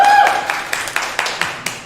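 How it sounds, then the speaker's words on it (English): A small meeting audience claps in scattered, distinct hand claps that carry on briefly, close and fairly loud, with a faint voice at the very start. "so please clap for Nick"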